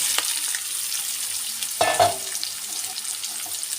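Raw green mango and dried shrimp drop into a hot frying pan, a sudden loud sizzling burst near the midpoint over a steady background hiss of frying oil, with brief stirring scrapes.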